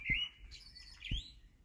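Small birds chirp in a front yard garden, two brief bright calls about a second apart, fairly faint and alone against quiet background.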